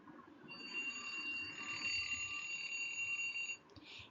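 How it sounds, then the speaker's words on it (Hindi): An alarm clock rings steadily with a bright, continuous electronic tone for about three seconds, then cuts off abruptly. "6 बजते ही नेहा की अलार्म घड़ी बज जाती है"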